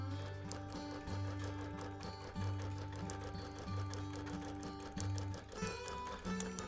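A long arm quilting machine free motion stitching a baby quilt, a steady rapid mechanical stitching chatter with a low motor hum that surges and eases in pulses, close and continuous, with no talk.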